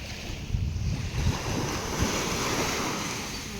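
Sea surf rushes and washes in a steady roar, with wind buffeting the microphone; loud, close, and continuous with no talking.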